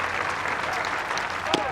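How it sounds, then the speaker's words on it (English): Crowd at an Arkansas vs Arizona State college baseball game roars steadily after a low fastball, a dense broadband cheer that holds at a constant level with a brief sharper spike near the end. "The crowd thought they had strike 3."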